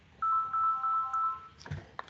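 A cell phone ringtone goes off in a lecture setting, a steady electronic melody of repeating tones for about a second and a half, followed by a few brief clicks and rustles.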